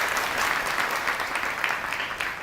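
An audience at a district jail in Bulandshahr applauds to welcome guests, a dense, steady burst of many hands clapping at once that holds loud and even throughout.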